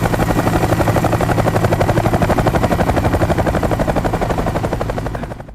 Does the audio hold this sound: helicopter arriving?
yes